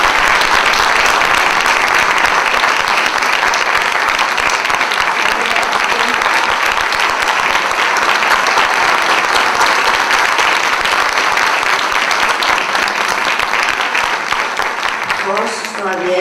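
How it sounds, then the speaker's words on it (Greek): Sustained loud audience applause at a school event on bullying where a school choir takes part, dense steady clapping filling the whole stretch with some voices mixed in. "ο Δημήτρης Ορφανίδης, χειροκρότημα."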